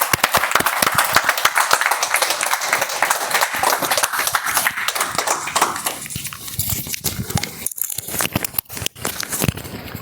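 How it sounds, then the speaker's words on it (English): Applause from a Toastmasters club audience welcoming a speaker to the stage, with sharp individual claps close by that thin out toward the end. "With thunderous round of applause, Toastmaster Vanita onto the stage, please."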